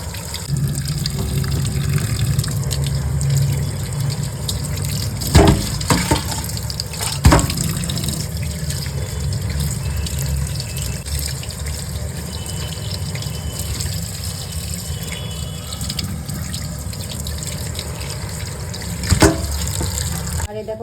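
Tap water runs steadily into a kitchen sink while raw chicken is washed for biryani, a continuous splashing stream broken by a few sharp clunks and knocks, with faint talk in the background.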